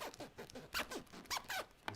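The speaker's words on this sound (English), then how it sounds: "Zippers are very handy." A zipper on a ukulele gig bag being pulled open and shut, giving several close, raspy zipping strokes in quick succession.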